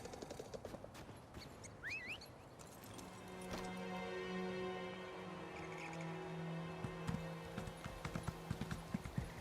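A horse's hooves clip-clop in Elder Scrolls Online, the steps faint and steady under a layered game soundscape of tones, clanks and background effects.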